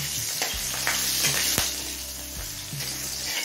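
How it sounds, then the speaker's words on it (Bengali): Nigella seeds and slit green chillies hit hot oil, giving a loud, continuous, close sizzle with sharp pops and a few scraping stirs. "এবার এই তেলে ফোড়নে দিচ্ছি 1/2 চামচ কালো জিরে, 7-8টা কাঁচা লঙ্কা"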